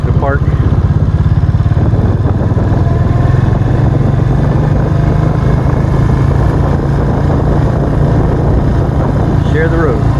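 A motorcycle rides along toward a park by the Hudson River, its engine putting out a loud, steady rumbling drone up close for the whole stretch, with some voice-like sounds mixed in under the engine.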